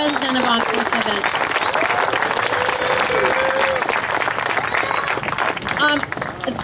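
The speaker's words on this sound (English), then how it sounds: "So if you guys please could give a big round of applause for Rob Justina, president of Encore Events." Loud, sustained applause from a sizable audience at an awards ceremony, dense clapping throughout with a few voices and cheers mixed in.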